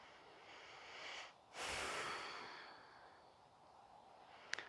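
A faint breath during a power yoga flow: a short sniffing inhale, a pause, then a longer audible exhale, all quiet and close, ending with a small click.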